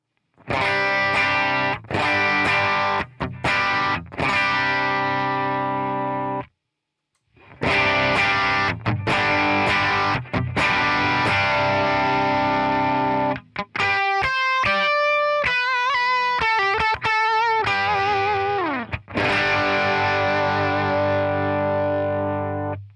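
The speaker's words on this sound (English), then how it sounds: "That Bloom boost is just fantastic." Distorted electric guitar with a boosted, driven tone through a Bloom boost pedal plays chords and lead lines, pausing briefly, then a ringing arpeggiated passage before big sustained chords return.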